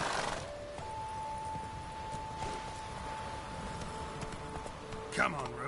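A horse gallops in a PS4 video game, its hoofbeats a faint, steady clip-clop under a low background hum, with a voice briefly present.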